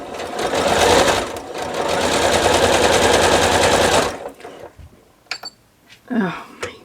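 A sewing machine runs at speed stitching churn dash quilt block pieces, a loud, close, continuous rapid chatter for about four seconds, then stops, followed by faint handling noises and a brief voice.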